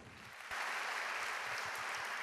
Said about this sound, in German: Begrüßen Sie sie mit einem herzlichen Applaus